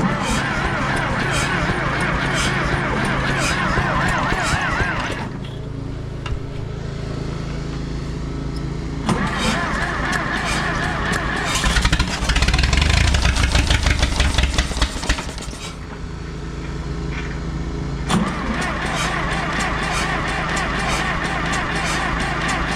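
Small engine revving after a throttle-up on a restart attempt, steady loud mechanical drone with rough, sputtering passages and a brief quieter dip, no talk over it.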